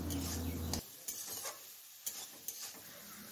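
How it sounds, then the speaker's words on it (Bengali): Soybean chunks fry in oil in a kadai, the oil mostly soaked up, with dry stirring scrapes and clinks against the pan: a steady hiss at first, then sparse spatula knocks spaced over a quiet background, no talk. "আমার কিন্তু সয়াবিন ভাজা পুরোপুরিভাবে কমপ্লিট"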